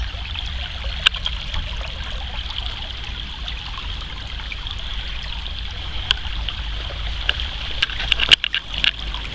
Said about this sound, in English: isn't the sound of the water just gorgeous?